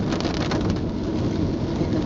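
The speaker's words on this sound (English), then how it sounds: "in the pouring rain" Heavy pouring rain roars steadily with a dense, low rumbling wash on a drive up a steep incline near Del Norte Redwoods State Park, loud and continuous with no voices.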